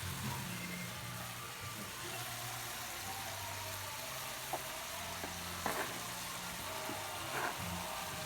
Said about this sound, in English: we're just going to have Angel do a little stirring up on our delicious trinity that we've created.